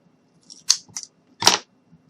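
Scissors snipping craft material for a handmade fairy cottage, a few short crisp cuts spaced apart, close and fairly quiet with no talking.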